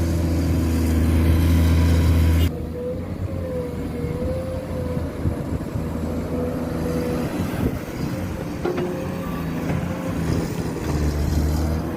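A loud, steady diesel engine of a Komatsu PC210-10 excavator with a 1.2 cubic metre bucket drones throughout while digging, with a deep rumble and a faint whine rising briefly.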